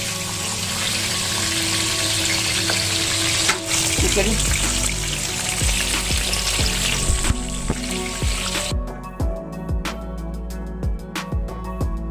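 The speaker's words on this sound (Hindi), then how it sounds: "यहाँ से चिकन भी फ्राई हो रहा है अच्छे से" Chicken fries steadily in hot oil for biryani, a constant crackling hiss with occasional pops and clinks of a utensil stirring the pan.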